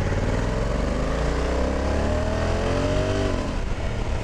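A Honda Africa Twin 1100 Adventure Sport DCT motorcycle pulls hard under acceleration, its loud, steady engine note climbing in pitch before dropping briefly as the gearbox shifts, with no voices over it.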